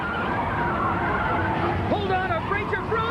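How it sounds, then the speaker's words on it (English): A vehicle with frozen brakes skids toward a light at night, a loud continuous grinding rush with tire squeal rising and wavering near the end, heavy and close, with voices over it. "We're skidding right into that light!"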